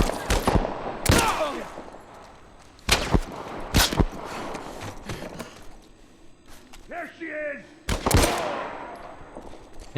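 Gunfire from The Last of Us, played on PC, comes in loud, sharp single shots spaced through the scene, with combat noise between them and someone talking over the action.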